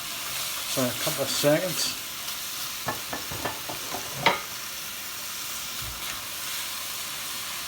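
Beef mince and tomato puree sizzle and crackle in a pan, with spoon stirring scrapes and a voice speaking briefly over the frying.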